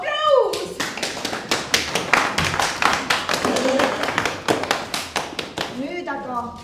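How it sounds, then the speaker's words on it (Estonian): Audience applause at a stage play performance, a dense burst of hand clapping lasting several seconds, loud and close, with voices speaking briefly before and after. "muidugi, aplaus."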